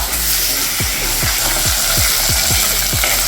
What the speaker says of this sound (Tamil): இதுக்கப்புறம் நீங்கள் உரிச்சு வச்சுருக்கிற வெள்ளைப்பூடை உள்ள போட்டுருங்க. வெள்ளைப்பூடை வந்து நல்லா வதங்கணும்.